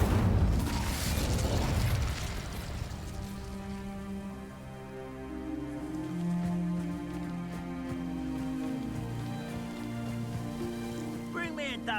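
An Incendio fire spell cast in a wizarding game: a loud crackling, bursting blast at the start that settles into a lingering tonal hum with faint crackles, and a voice speaks briefly.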